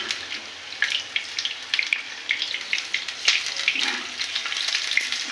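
Pumpkin flower fritters fry in hot oil with a steady, close, crackling sizzle and bright bursts of spatter throughout, and no one speaks.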